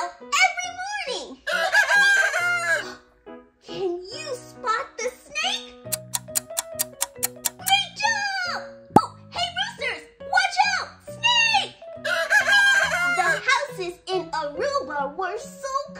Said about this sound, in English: here's some roosters that were really, really loud every morning